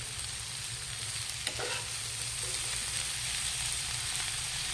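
Chopped bottle gourd sautés with ground meat and a little shrimp paste in a pan, a constant close sizzle with a steady frying hiss and a faint scrape of a spatula partway through.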